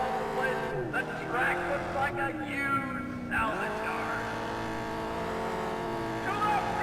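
Car sliding through a curve in Test Drive Eve of Destruction, a steady engine drone with pitch dips and rises as it drifts and recovers, running continuously under a player's voice.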